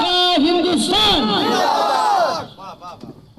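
A large crowd at an Eid Milad-un-Nabi religious gathering roars a loud, drawn-out chant in answer to the Naara-e-Takbeer slogan, many voices swelling together before fading out after a couple of seconds.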